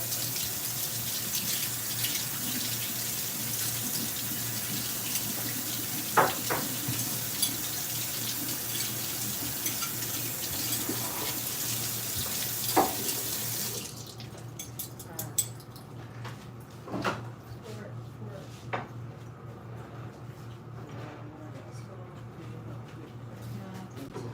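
A pan is rinsed under a running kitchen tap while cooking curry chicken: a steady, loud rush of water for about fourteen seconds, then quieter clinks and handling sounds at the sink.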